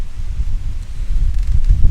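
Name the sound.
wind blowing outdoors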